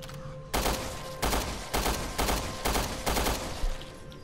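Repeated bursts of automatic gunfire from Resident Evil Revelations 2, loud clustered volleys separated by short pauses, about six bursts in quick succession with no talking over them.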